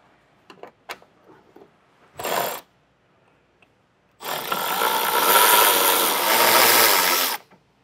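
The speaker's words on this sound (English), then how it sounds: "access 2 8-millimeter nuts that are right here. And we'll take both of those loose." Two 8-millimeter nuts are loosened by hand with a tool during a trailer hitch installation near a vehicle's tail light. Short clicks come first, then a loud, sustained mechanical burst of several seconds, close up with no talking.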